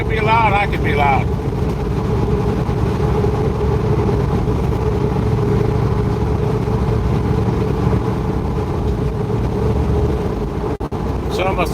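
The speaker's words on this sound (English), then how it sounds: "Motorcycle can be loud" A motorcycle engine drones steadily while riding, a loud continuous low rumble with a constant pitch that runs throughout, with a brief whistle-like tone at the start and a short dropout near the end.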